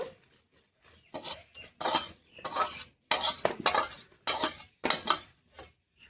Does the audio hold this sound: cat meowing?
no